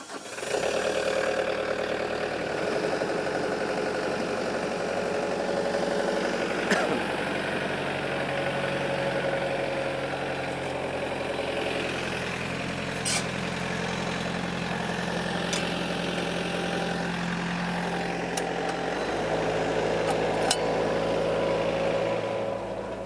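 A Campey turf care machine runs on a sports green, its engine holding a steady mid-low drone with a faint whine and occasional sharp mechanical clicks, moderately close and unaccompanied by voices.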